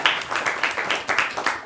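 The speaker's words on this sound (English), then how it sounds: "Yes, we can applaud her." Brief, sparse clapping from a small group for a speaker at a meeting on local and regional authorities, with individual claps distinct and rhythmic.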